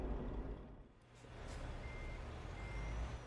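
Reversing beeps from a truck backing up in Euro Truck Simulator 2, a thin steady tone repeating over a low engine rumble and road noise, with no talk.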